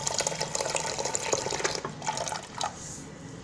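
Sago pearls washed in water give close sloshing, splashing and dripping, continuous at first and then thinning to scattered drips.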